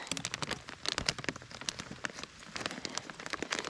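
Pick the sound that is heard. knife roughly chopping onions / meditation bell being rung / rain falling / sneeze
rain falling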